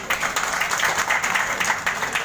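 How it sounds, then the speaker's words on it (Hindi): A crowd applauds steadily and loudly at a Holi gathering in Raebareli, where a traders' association is honouring prominent community members. The clapping is dense and continuous, with no pauses and no talk. "जोरदार तालियों से"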